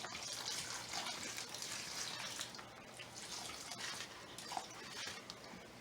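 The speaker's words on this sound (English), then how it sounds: "I'm just going to water it in." Cold well water from a hose runs steadily into the soil of a freshly repotted monstera, a soft continuous gushing and trickling with no voices.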